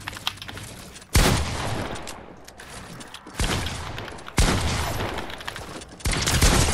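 Shotgun blasts in Fortnite, four loud, sharp shots spaced about a second or more apart, each followed by a short decaying tail over steady game noise.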